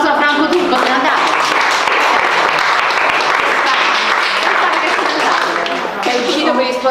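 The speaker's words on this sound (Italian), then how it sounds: "Un applauso a Franco Turco, se andate." Audience applauding at a live event in Pontinia, steady dense clapping that fills the whole stretch, loud and close, with some voices mixed in underneath.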